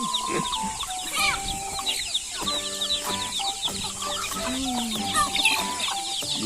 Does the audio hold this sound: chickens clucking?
yes